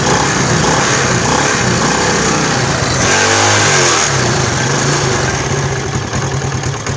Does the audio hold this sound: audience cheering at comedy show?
no